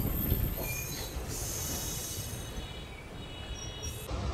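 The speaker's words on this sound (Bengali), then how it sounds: "ট্রেন ঢুকছে আমাদের ব্যান্ডেল জংশনে" The Teesta Torsa Express rolls into Bandel Junction with a continuous heavy rumble of railway cars and a high squeal from the wheels, loud and close, with no talking.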